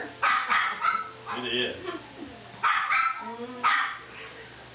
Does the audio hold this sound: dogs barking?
yes